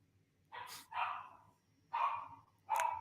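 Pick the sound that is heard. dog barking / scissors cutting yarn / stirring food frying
dog barking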